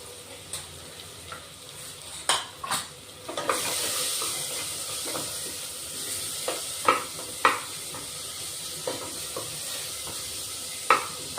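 Mutton masala with onion, tomato and whole spices sautéed in a pan: sharp spatula knocks and scrapes recur every second or so over a soft sizzle that swells into a brighter hiss partway through.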